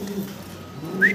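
Pigeons at a pigeon market, low soft cooing close by with a short higher call near the end, no talk.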